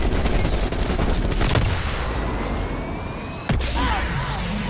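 Heavy gunfire in Call of Duty: Black Ops Cold War, loud bursts and rattling automatic fire filling the whole stretch with sharp cracks standing out, no voices.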